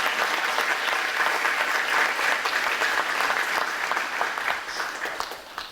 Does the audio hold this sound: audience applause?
yes